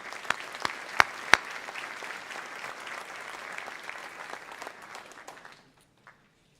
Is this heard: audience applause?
yes